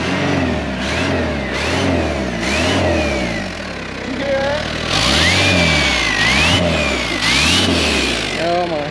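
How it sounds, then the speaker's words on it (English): Turbocharged engine of a miniature semi-tractor revving in repeated surges in a shop, loud and close, with a rising turbo whistle over the deep engine pulse. "Sounds like he's checking this turbo."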